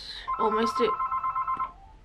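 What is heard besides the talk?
phone ringing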